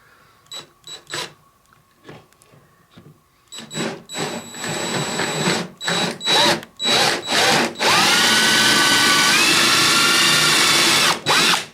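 A power drill bores into the corner of a Midway Pac-Man Cabaret arcade cabinet during restoration, starting with short bursts and then running in one long, loud, continuous whir at close range.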